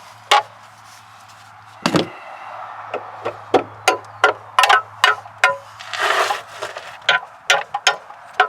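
Hammer tapping a new lower control arm into place on a Hyundai Santa Fe Sport, a series of sharp knocks of varying loudness, close by, some in quick pairs, over a low steady hum.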